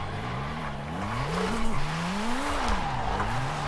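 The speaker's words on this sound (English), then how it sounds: "we have a lot more wheel spin than I anticipated" Car wheel spin and tire squeal in Forza Horizon 5, with a short-wheelbase drift build oversteering; a wavering squeal rises and falls over a steady engine roar, loud and continuous with no talk.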